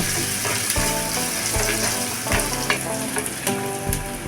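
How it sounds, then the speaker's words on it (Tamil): A chopped large onion sautés in a pan for a South Indian side dish, giving a steady close sizzle with irregular spatula scrapes and knocks throughout and no talking. "ஒரு பெரிய வெங்காயத்தை கட் பண்ணி சேர்த்துக்கணும். இதை ஓரளவுக்கு வதக்கினா போதும்."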